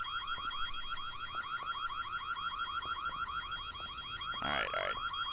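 An alarm rings in the Korean horror video game White Day as a continuous rapid electronic warble that holds steady the whole time. A brief louder burst of noise sounds near the end.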